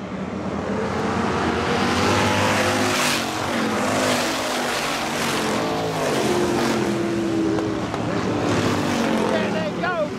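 Hobby stock race cars roar around the Salina Speedway dirt oval, a dense continuous engine drone with rising and falling revs as cars pass, a public-address announcer talking over the noise throughout.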